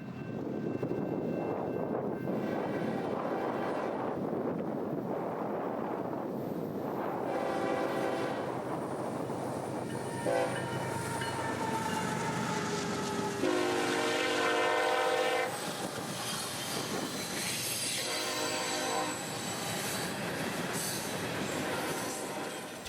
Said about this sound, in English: Heading north would be B207, a loaded phosphate unit train out of Mulberry bound for Cicero, Illinois